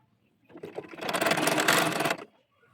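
A sewing machine stitches a seam on a baby dress of gauze fabric, making a single close, fast whirring burst of about two seconds that starts and stops abruptly.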